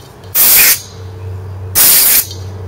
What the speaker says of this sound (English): See if I can get it with the air compressor.